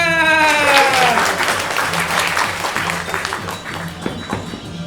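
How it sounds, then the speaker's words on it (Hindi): Clapping from a theatre audience in a comic Hindi stage play, a steady dense burst of applause over a crowd murmur, with a voice briefly rising above it near the start. "तालियां।"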